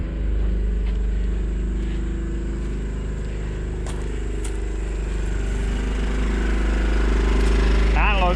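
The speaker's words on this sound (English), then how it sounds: "Generator, you may have to warm it up a little bit before it's really ready to go." Generator running in the bed of a 1999 Ford F350 hotshot truck, a loud, close, steady engine drone that holds constant throughout, with a faint whine near the end.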